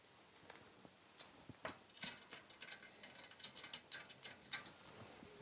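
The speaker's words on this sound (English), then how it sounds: "And then tighten up using the screwdriver." M6 screws are driven into cage nuts on an open tower rack with a screwdriver, giving quiet close ratcheting ticks and small clicks in uneven runs, with no talk.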